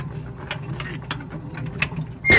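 A machine's agitator mechanism run by a push button, giving a steady low mechanical hum with intermittent clicks and ratcheting clatters, ending in a louder burst.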